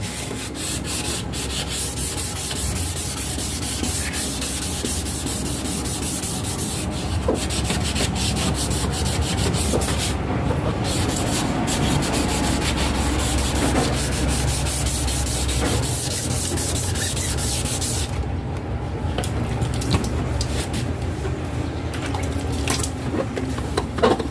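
A yellowed 1997 Honda City headlight lens is sanded and rubbed by hand in a continuous scratchy, wet-sounding friction, with steady repeated strokes close up and no talking.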